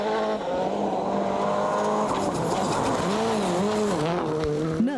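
A rally car at WRC Japan blasting through a fast stage badly rutted after many cars have passed, engine revving hard with pitch swooping up and down through gear changes, loud and close throughout.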